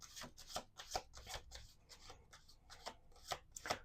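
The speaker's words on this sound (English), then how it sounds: "Let's do 2 more shuffles." Tarot cards being shuffled by hand, a run of quick papery riffles and slaps in an uneven rhythm, close and fairly quiet, with no voices.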